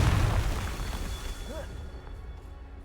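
A fiery Confringo spell exploding in the video game Hogwarts Legacy, a single booming burst up front that rolls off into a fading rumble, with a faint voice briefly over it.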